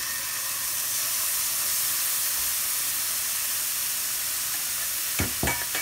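Glass noodles for japchae stir-fry in a pan with a steady, close sizzling hiss throughout, and a few utensil scrapes and knocks near the end; no one talks.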